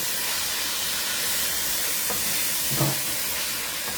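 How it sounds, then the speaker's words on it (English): Saltfish frying with tomatoes in a pan gives a steady, loud sizzling hiss throughout, with a couple of faint stirring knocks near the end. "I like when the saltfish fry, of course, with the tomatoes and things like that."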